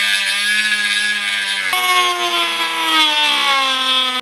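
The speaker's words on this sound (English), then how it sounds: "the way that we're going to be chopping this up is going to be with a Dremel" A Dremel 3000 rotary tool cuts into a 1998 Mustang Cobra taillight with a steady, close, high whine that drops in pitch partway through as the bit loads up, then cuts off abruptly.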